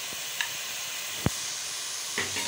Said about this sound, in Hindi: अभी मिक्स कर लेते हैं और अच्छी तरह भून लेते हैं अपने कीमे को।